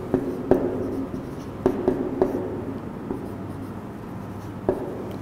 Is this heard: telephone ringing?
no